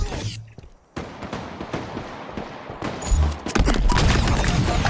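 Shock rifle gunfire in a Halo match, a run of sharp energy-weapon blasts and booms layered over dense game action, loud and close, with a commentator's voice talking over it.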